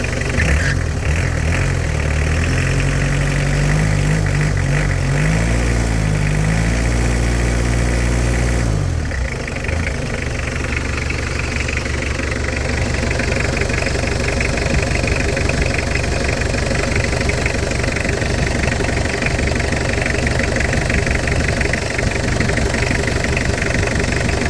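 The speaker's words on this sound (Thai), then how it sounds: "เดี๋ยวฟังเสียงรถยนต์หน่อย" A Mitsubishi L200 pickup's diesel engine idles loudly and close up, a steady clattering knock with a deep rumble; the idle note shifts and settles about nine seconds in, then runs on evenly.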